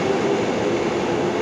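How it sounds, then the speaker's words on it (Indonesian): A steady low rumble of a train fills the BNI City station platform in Jakarta, with a faint tonal hum above it and no distinct voices. "Nah, ini dia suasana di stasiun BNI City."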